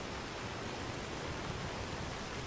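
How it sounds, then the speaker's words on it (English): Steady rain falls in the fantasy game Enderal, a Skyrim mod, as a dense, even hiss of drops with no pauses, moderately quiet and without voices. "I really wish it would stop raining though."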